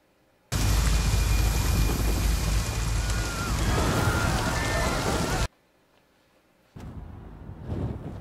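Heavy rain pours down in a TV drama scene, a loud dense roar lasting several seconds before cutting abruptly to quiet, followed by softer sounds.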